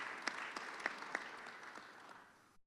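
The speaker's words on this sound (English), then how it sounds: "So applaud yourselves." Applause from a conference audience of several hundred registrants at a plenary session, a steady, fairly faint patter of many hands with a few louder individual claps standing out, fading at the end.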